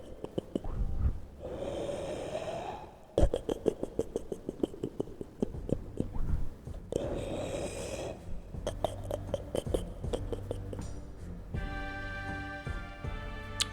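Someone imitates snoring with the voice, giving a few long breathy snorts separated by clattering and tapping, close and fairly loud, with a buzzing rattle near the end.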